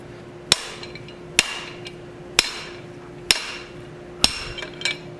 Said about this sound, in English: I'm just straightening this out on the anvil with just a few hammer blows to get it set up more proper.